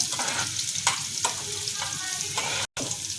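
Garlic and dried red chilies sizzle in hot oil for arhar dal, a loud continuous frying hiss with occasional stirring scrapes, close to the pan.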